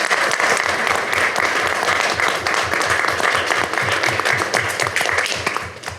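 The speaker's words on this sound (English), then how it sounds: "Let's give these folks a round of applause." Loud, sustained applause from the audience at a city council meeting, a dense rhythmic wall of clapping that holds steady and then tapers slightly at the end.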